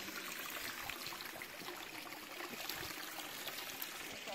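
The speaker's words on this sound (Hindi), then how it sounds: "ध्यान से सुनो गाइस झरने की आवाज कितनी मस्त है, छोटा झरना है" A small jungle waterfall in Himachal streams steadily with a constant, close, full rush of water that never lets up.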